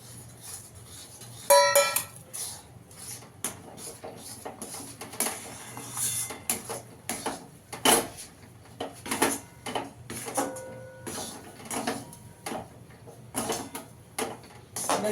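Crushed puffed rice being stirred in a pan over low gas: soft, irregular scraping and clacking strokes close by, fairly quiet, with no talking.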